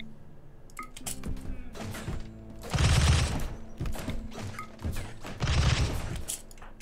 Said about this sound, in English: I can hear a bunch of thudding, so there might be mechanoids around.